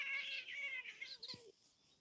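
Kittens playing and meowing, a few high, wavering cries running close together at moderate volume, with one faint low thump near the end.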